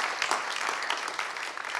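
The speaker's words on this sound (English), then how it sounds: "a big round of applause for our moderators" An audience at a workshop session claps steadily for the moderators, a continuous round of applause filling the short stretch without pause.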